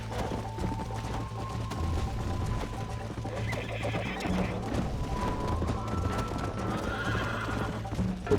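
A horse in the video game Red Dead Redemption gallops with rapid, steady hoofbeats and neighs several times, mid-level and continuous, with faint game sounds in the background.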